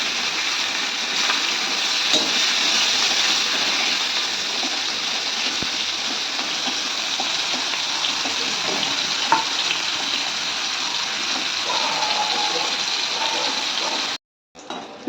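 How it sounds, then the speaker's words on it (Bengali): Bitter gourd frying hard in oil for a Bengali shukto, a dense steady sizzle at close range running almost the whole time, then cutting off abruptly near the end. "এবার আমি উচ্ছেটাকে একটু কড়া করে ভেজে নেব।"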